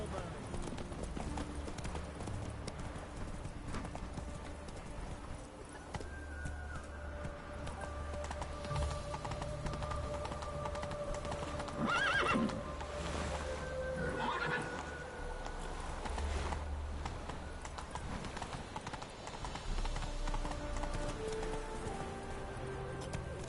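Roach the horse gallops with steady rapid clip-clopping hooves in The Witcher 3, whinnying loudly midway, while a rider's voice and game dialogue sound over the hoofbeats.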